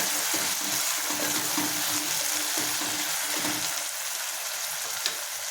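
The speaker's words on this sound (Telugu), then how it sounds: "టమాటాలు కొంచెం మెత్తబడాలి. మెత్తబడేదాకా వేపించుకోవాలి." Chopped tomatoes fry in oil with sautéed onions in a pot, a steady broadband sizzle with faint scraping stirs, close and continuous, no talking.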